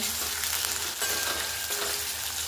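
Green chilies frying in hot oil in a pan for sabudana khichdi, a steady loud close sizzle with faint stirring scrapes throughout.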